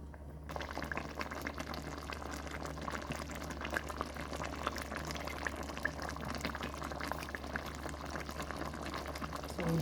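Brown stew fish in a covered pot simmers steadily, a soft continuous bubbling and hiss with no talk, fairly quiet throughout.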